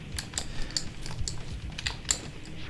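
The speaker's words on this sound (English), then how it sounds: "You could probably hear my controller noise quite a bit in the background." Clicks from a PlayStation controller's D-pad during Cool Boarders 3 gameplay on PS1, a string of light, irregular plastic taps close by, about six to eight presses over a few seconds.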